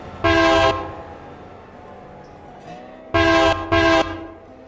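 A passenger train's loud horn blasts close by, one long sounding followed after a pause by two more in quick succession, over a low rumble of the moving train.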